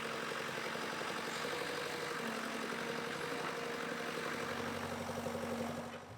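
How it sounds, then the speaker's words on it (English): A backhoe works steadily while digging a long trench for power and water lines on a rural property in Costa Rica, its diesel engine droning continuously and close by, with the pitch rising partway through. "we're gonna dig a long canal with Paul's backhoe, and he's already working on it"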